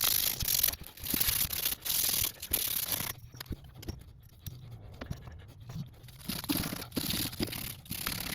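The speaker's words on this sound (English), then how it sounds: "making sure to ream and deburr the pipe and wipe everything down for a nice clean fit." A reamer and deburring tool scrape the cut end of a water pipe during a tankless water heater install, making close, rasping, scratchy strokes in uneven bursts with brief pauses.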